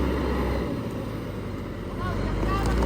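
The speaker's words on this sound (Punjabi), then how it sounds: "ਜ਼ਮੀਨ ਥੱਲੇ ਗਿੱਲੀ ਹੈ, ਟਰੈਕਟਰ ਸਲਿੱਪ ਹੋ ਜਾਂਦਾ ਹੈ" A tractor engine strains with a low, rough rumble as its wheels slip on wet ground while it pulls a dead tree out with a rope. Voices talk over the engine and there is some wind noise.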